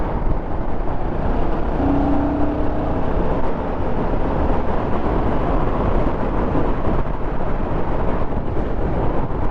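A Royal Enfield Guerrilla 450 motorcycle being ridden, its engine a continuous loud rumble mixed with wind rush, steady for the whole stretch with no voices.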